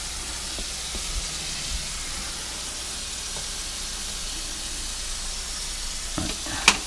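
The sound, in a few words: stirring sizzling food in a pan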